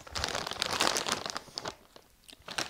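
Plastic bags from an online order rustling and crinkling as packages are pulled out and unwrapped, close crunchy crackles that fade briefly before picking up again.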